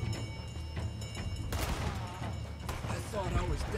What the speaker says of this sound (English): It's a bolt action rifle